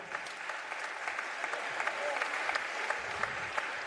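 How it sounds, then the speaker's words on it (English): Crowd applauding at a men's college basketball game, steady dense clapping filling the gym for several seconds, moderately loud with no talk over it. "Let's have a big round of applause for Boston."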